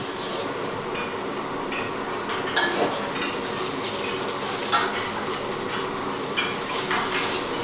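Shiitake mushrooms fry in oil over low heat, giving a steady close sizzle with a few sharp stirring clicks from a utensil against the pan, no talk.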